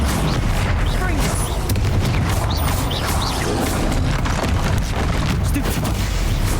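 Confringo spell blasts in Hogwarts Legacy combat against a troll: loud, dense booms and crashes that stack up without pause over a constant roar of battle noise, with voices calling out beneath.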